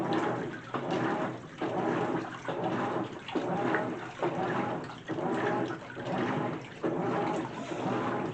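Water rushes into a GE washing machine filling on its normal cycle, a soft, muffled stream that swells and dips in a regular pulsing rhythm about once a second, with no talking.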